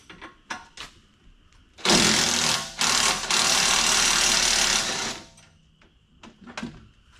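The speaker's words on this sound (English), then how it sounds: "We might need impact for this one." Impact wrench loosening a shock absorber nut on a 1995 Ford Mustang, heard as one loud sustained rattling burst of about three seconds with a brief dip, set between quiet clicks and handling noises.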